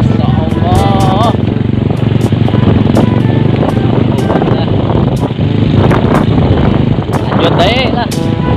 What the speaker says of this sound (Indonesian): Naik motor.